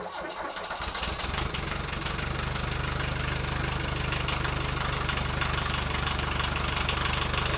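A repaired VW 1.6L turbo diesel engine catches and settles into a steady, loud, close idle with a rough knocking clatter that holds throughout.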